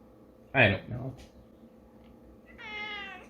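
A house cat gives a meow at close range, then a second, higher, drawn-out meow follows after a short pause.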